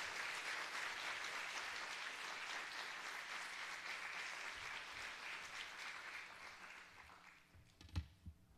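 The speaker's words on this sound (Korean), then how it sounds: "뜨거운 박수로 모시겠습니다" Sustained audience applause at a Wednesday evening church service welcoming a pastor to the pulpit, a dense wash of clapping that fills most of the span, then thins and fades near the end with a single sharp knock.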